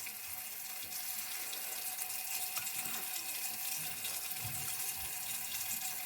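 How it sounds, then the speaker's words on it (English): Water runs from a tap into a sink outdoors near front gardens, a steady hiss and splash at moderate distance with faint background sounds. "I'm gonna run some water."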